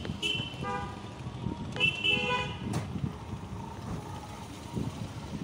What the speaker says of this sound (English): Do you remember what the city sounds like?